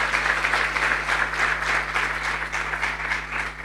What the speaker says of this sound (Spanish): Demos un aplauso al Señor por su corazón